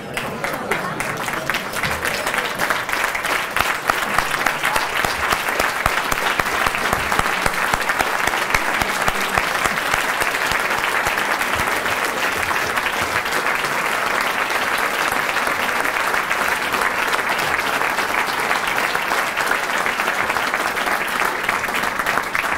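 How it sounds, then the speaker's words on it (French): Guests at a formal tribute dinner give a long, warm round of applause for the honoree. Dense, steady clapping fills the room at an even level for over twenty seconds, with no voices rising above it. "je vous prie de lever votre verre à notre lauréat et à l'applaudir très chaleureusement"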